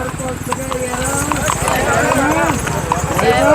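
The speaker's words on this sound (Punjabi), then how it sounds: "ਬਹੁਤ ਹੀ ਸੁੰਦਰ ਘੋੜੇ ਆ ਨਿੰਗ ਸਿੰਘ ਫੌਜਾਂ ਦੇ ਚੜ੍ਹਦੀ ਕਲਾ ਵਾਲੇ ਘੋੜੇ ਆ" Horse hooves clip-clop in a steady rhythm with people talking over them, the hoofbeats of Nihang Sikh horses fairly close and partly masked by the voices.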